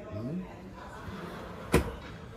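A large drawer in a fully integrated Euro Forster I 745 QF motorhome is pushed shut with one sharp, close knock near the end, following quiet talk and soft handling noise.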